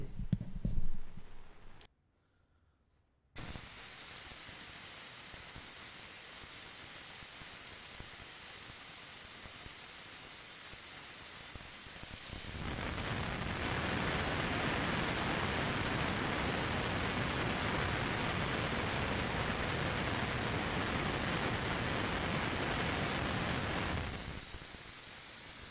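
A paint spray gun set to 29 psi hisses in a steady, loud rush of air with an air compressor running behind it, after a short pause; the hiss swells louder midway and keeps going for a long stretch.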